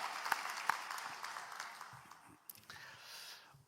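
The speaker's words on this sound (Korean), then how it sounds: "우리 하나님께 감사의 박수 드리겠습니다" A church congregation gives thanks with applause during a Sunday service, a faint, distant spread of clapping with a few sharper claps early on that gradually fades away.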